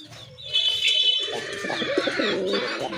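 Native pigeons cooing close by, a few soft, low rolling coos with light chirps mixed in, no talk.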